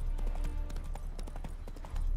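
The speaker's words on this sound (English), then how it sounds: "It's quite definitely a horse." Horse hooves clip-clop in The Witcher 3, a steady quick run of close, distinct hoofbeats with faint background sound.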